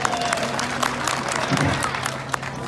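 A crowd at an election rally applauds and cheers in a dense, steady wash of scattered claps with some crowd noise.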